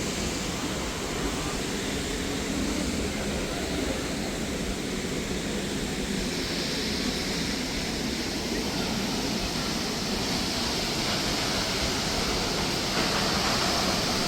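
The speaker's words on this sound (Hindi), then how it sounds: "This is the Birthi Fall." Birthi waterfall, swollen by heavy rain, roars as a broad, steady rush of water with no breaks, a constant wash of noise heard from some distance.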